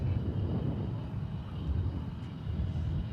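A plane taking off from runway 18 left at DFW Airport, heard as a steady low engine roar at a distance, partly blurred by wind noise, with no speech.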